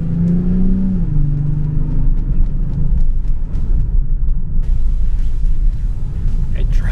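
A car drives along the road, a loud engine rumble and whir that climbs in pitch early on and then settles into steady road noise, with people talking over it.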